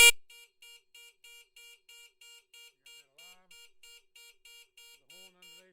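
A caravan's electronic alarm horn beeps in a steady, regular pulse, about three beeps per second, loud and unbroken, with faint background noise between tones.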